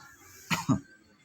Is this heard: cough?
yes